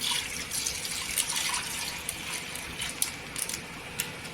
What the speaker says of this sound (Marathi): इथं दूध टाकून घ्यायचं